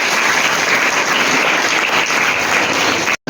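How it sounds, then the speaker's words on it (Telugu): Audience clapping in a school gathering, dense and steady applause filling the space for about three seconds before cutting off abruptly. "ఓకే, క్లాప్స్ కొట్టండి."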